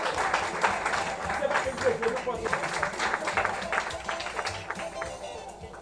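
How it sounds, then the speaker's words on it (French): Audience applause at a certificate and prize-giving ceremony, a steady dense clapping from a crowd that runs through the whole stretch at moderate level, with a sharp knock right at the end. "Nous demandons de nous applaudir"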